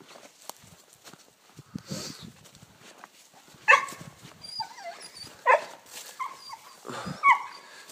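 An anxious dog barks and whines in the background outdoors at a canoe campsite, with intermittent yelps and higher whimpers spaced over several seconds, moderately distant.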